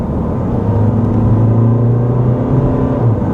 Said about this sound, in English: Now that we're moving, let's see if you guys can hear the diesel.